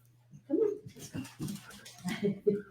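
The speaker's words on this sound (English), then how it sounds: "I got a new puppy. Just came bounding into the room." A new puppy whimpers and yips in a room, several short high whines in quick succession, close and fairly loud over a faint steady hum.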